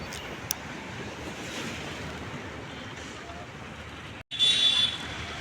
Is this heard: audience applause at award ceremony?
no